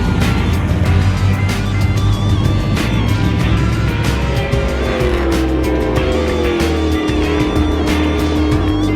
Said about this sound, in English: I'm in a 600 horsepower stock car about to go 160 miles per hour.